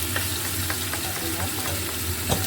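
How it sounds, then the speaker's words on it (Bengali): Winter vegetables lightly frying in oil, a steady low sizzle with soft stirring clicks running throughout at moderate level, no voices. "বাকি সবজিগুলো ঠিক এইভাবেই ভেজে নেব হালকা করে"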